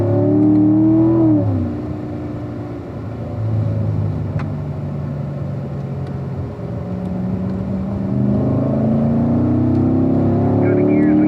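A 2017 Corvette Stingray C7 Z51 accelerates on the track at Spring Mountain, engine rising in pitch through successive gear changes with a dip between shifts, loud and close throughout.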